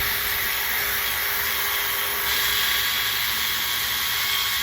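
A power drill spins a sandpaper or Scotch-Brite cleaning pad against installed rails, giving a steady, continuous high whirring hum that holds even throughout, with a slight rise in intensity partway through.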